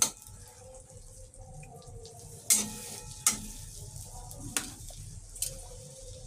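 Chopped garlic fries in butter in a pan, giving a soft, steady sizzle broken by several sharp clinks and scrapes of stirring at irregular intervals.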